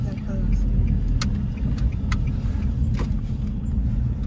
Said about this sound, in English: You the one still driving the car.